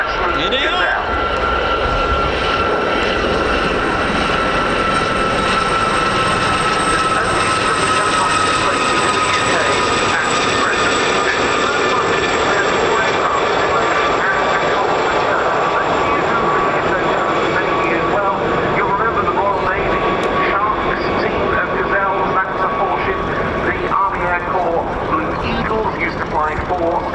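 Westland Gazelle helicopters of the Gazelle Squadron display team fly past at an air show, a steady, loud rotor and turbine drone that holds for the whole stretch over constant crowd and wind noise.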